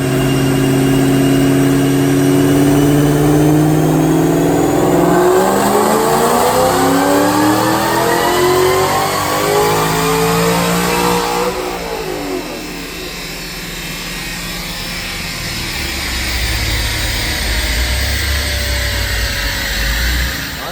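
A supercharged 2014 Ford Mustang GT500 with a stock 2.3L TVS blower and Detroit Rocker cams roars through a full-throttle dyno pull, engine pitch sweeping steadily upward, then dropping off and settling, loud and close throughout.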